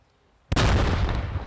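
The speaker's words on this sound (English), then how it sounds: "This was the moment the explosion was seen and heard. A World War II bomb detonated in the heart of Southway." A World War II bomb detonating in Southway, a sudden single massive blast after a quiet moment, with a deep rumbling roar that sustains and rolls on loudly at a distance.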